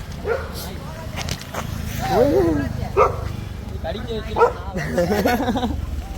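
A dog barks and yips in short, uneven bursts, fairly close, mixed with whimpering sounds while people talk over it.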